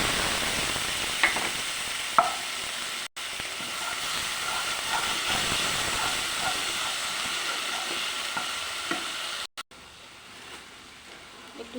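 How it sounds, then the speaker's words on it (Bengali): A paste of poppy seed, coriander leaves, green chili, nigella seed and garlic hits hot oil in a pan, giving a soft, steady frying hiss and sizzle with a few light clicks of stirring, close but quiet. "এবারে পোস্ত, ধনে পাতা, কাঁচা লঙ্কা, কালো জিরে আর রসুন বাটা দিয়ে দিচ্ছি।"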